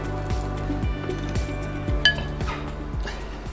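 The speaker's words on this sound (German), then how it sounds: "zwischendurch verquirle ich mein Ei" An egg being whisked, a fast rhythmic series of clinking taps against a bowl, regular and close, with no voice over it.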